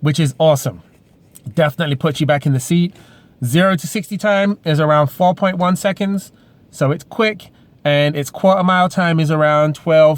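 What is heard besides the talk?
No everyday noise stands out behind the speech.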